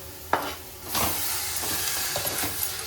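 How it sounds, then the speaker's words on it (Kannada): Finely chopped spinach hits hot oil, setting off a steady sizzle broken by several scraping stirs of the spoon against the pan, close up. "ಚಿಕ್ಕದಾಗಿ ಕಟ್ ಮಾಡ್ತಿರುವಂತಹ ಪಾಲಕನ್ನು ಆ್ಯಡ್ ಮಾಡ್ತಾ ಇದ್ದೀನಿ"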